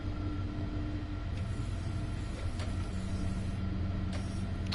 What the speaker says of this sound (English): this train here, obviously, or this loco, the audio is fine